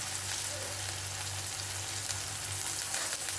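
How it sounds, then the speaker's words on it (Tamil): Cumin seeds and curry leaves sizzling in hot oil with already softened onion and garlic, cooking for a cluster beans thokku: a steady, close crackling hiss with fine popping throughout. "நம்ம இந்த டைமில் கொஞ்சம் சீரகம் போட்டுக்கலாம், கூடயே கருவேப்பிலை போட்டுக்கலாம்"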